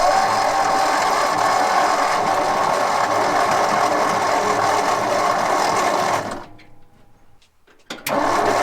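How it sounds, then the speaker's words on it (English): A rebuilt 1962-64 Ford starter with a Bendix drive cranks an engine in a steady, whirring, mechanical grind for about six seconds, then cuts off, followed by a short rattle near the end. "Let's get this thing a crank."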